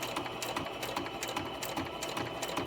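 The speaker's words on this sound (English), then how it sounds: "anytime you stop the sewing machine, it will automatically stop with the needle in the down position" A sewing machine runs steadily, stitching fabric panels for journal cover linings, a continuous close whirring with fast rhythmic needle ticks and no pauses.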